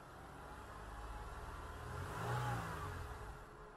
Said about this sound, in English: So let me rev the engine.